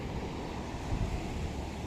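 Ocean surf rumbles in a steady, broad wash, mixed with wind buffeting the microphone, fairly faint with no voices.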